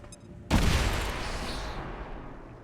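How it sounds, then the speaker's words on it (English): A grenade blast in XCOM 2: War of the Chosen hits with a sudden loud boom, then a long rumbling crackle of debris that slowly fades. "One grenade all the way back here, just like that also"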